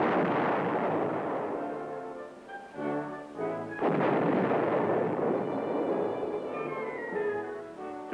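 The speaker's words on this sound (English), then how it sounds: "Artillery training provides practice in gunnery, using weapons with both conventional and nuclear firepower capability." Military artillery gunnery training fire heard as loud, deep booming blasts with long rumbling decay, one sharp report near the middle, filling the whole stretch without speech.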